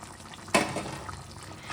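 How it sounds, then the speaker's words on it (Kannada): Water bubbling in a pot for uppittu gives a soft, churning burble that surges after a brief quiet moment and then keeps rolling at moderate volume. "ನೀರು ಕುದೀತಾ ಇದೆ."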